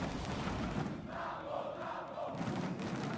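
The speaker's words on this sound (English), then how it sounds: "Listen to the crowd just cheering." A big esports crowd roars and cheers continuously at a League of Legends tournament in a large venue, a dense wash of voices swelling and dipping.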